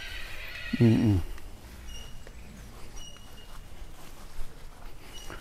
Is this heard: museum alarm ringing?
no